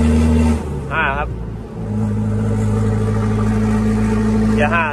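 A turbocharged car pulls steadily in fifth gear with a continuous low engine drone heard from inside the cabin, while someone talks over it in short bursts.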